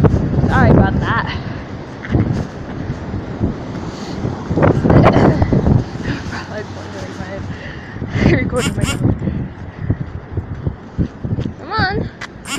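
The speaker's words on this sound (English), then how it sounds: "it's really windy out, so it's gonna probably sound really muffled." Heavy, blustery wind buffeting the microphone, a constant low rumble with gusts rising and falling throughout, with a voice speaking intermittently underneath.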